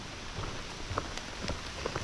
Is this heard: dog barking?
no